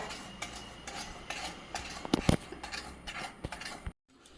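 A spoon stirs a thick seven cup sweet mixture in a pan, giving soft scraping and clinking strokes in an irregular rhythm, with a couple of louder knocks before it stops abruptly.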